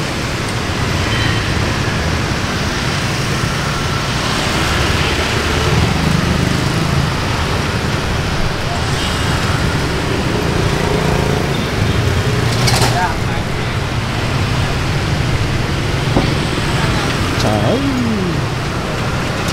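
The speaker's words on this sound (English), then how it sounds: "There's a lot of traffic here too." Dense street traffic with motorbikes in Saigon's Chinatown in District 5, a continuous loud roar of engines with occasional horn toots and brief louder passes, with voices talking throughout.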